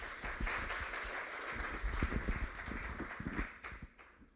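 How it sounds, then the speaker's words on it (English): Applause rises from a conference audience at GrowthFest Lisbon to welcome a speaker, Mario, a steady patter of many hands at moderate distance, fairly soft, thinning out toward the end. "So a round of applause for Mario,"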